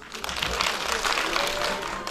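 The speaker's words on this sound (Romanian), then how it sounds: "să aplaudați alături de mine." Festival audience clapping in a dense, continuous burst of applause, fairly close and loud, with voices mixed in underneath.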